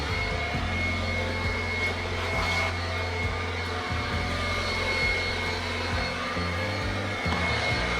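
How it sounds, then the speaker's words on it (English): A portable blower clears dust at an outback camp at O'Briens Creek, Queensland, giving a continuous loud rushing roar with a low droning hum underneath, steady and close for the whole stretch. "it's a good tip to bring a blower as well."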